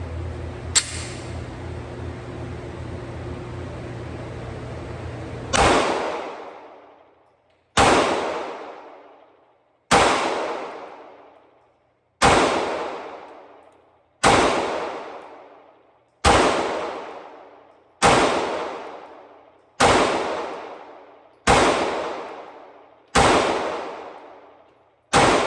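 Springfield Hellcat Pro pistol firing at a target, about nine loud, sharp shots spaced a couple of seconds apart, each ringing out with a decaying echo, after a steady low hum.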